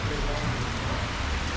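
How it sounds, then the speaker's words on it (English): Heavy tropical rain falls in Bangtao, Phuket, a loud, steady, unbroken hiss close by. "yeah, the rain doesn't stop."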